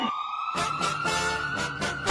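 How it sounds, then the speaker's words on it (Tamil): An ambulance siren wails with a steady high tone and repeated bursts, loud and near against street noise, with no talk. "ஆம்புலன்ஸ் வழி விட்டுருங்கப்பா"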